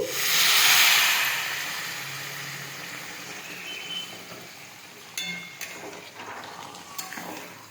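A loud burst of steamy hissing as hot water hits a hot frying pan of rohu fish-head muri ghonto, fading into a softer sizzle, with a few light clinks near the end.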